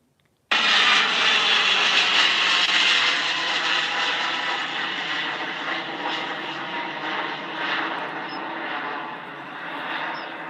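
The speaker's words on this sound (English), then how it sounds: "Just what a great departure that was." Airliner departing and taking off, a loud sustained engine roar that starts abruptly and slowly fades as the aircraft moves away.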